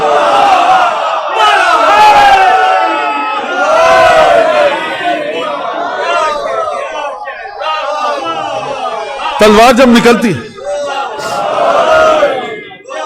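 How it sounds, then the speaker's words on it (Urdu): A crowd at a religious gathering celebrating the birth of Hazrat Abbas chants Ya Ali slogans in loud, repeated collective shouts that rise and fall, alternating with a voice speaking. "یہ جو یا علی کہہ رہے ہیں نا آپ"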